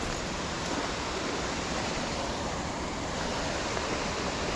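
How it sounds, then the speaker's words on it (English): Wharnley Burn waterfall runs full after rain, pouring across a rock face in a dense, steady rushing roar with no pauses. "So, the waterfall's looking pretty good."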